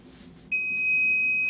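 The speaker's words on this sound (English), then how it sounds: "And it should beep for me when it gets down to 45." A temperature alarm on a tumbler sublimation setup sounds a steady high electronic beep that starts abruptly midway and holds as a continuous tone, faint and alone in a quiet room.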